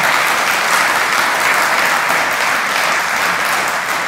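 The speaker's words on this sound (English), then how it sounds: "I want you to applaud our colleague again." Sustained applause from a lecture audience at a university inaugural professorial lecture at Stellenbosch, steady and dense throughout with no talking over it.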